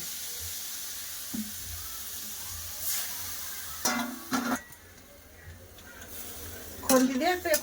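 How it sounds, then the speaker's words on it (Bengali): Potatoes and shrimp dropped into hot oil, setting off a sizzle among clanks of a metal pot and utensils, with a voice talking intermittently over it. "গরম হয়ে গেছে তেলটা এবার মিশি রাখা আলু আর চিংড়ি মাছটা দিয়ে দেবো"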